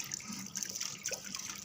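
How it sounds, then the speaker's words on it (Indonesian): A water tap runs steadily while hands are wetted under the stream, a close, even hiss of flowing water with no talking. "Setelah itu nyalakan keran air"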